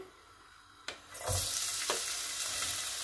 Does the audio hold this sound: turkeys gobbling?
no